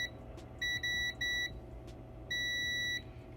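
Electronic beeps from a Nintendo Switch circuit board under test, a few short tones in quick succession followed by one longer beep, steady and clear over a quiet background hum.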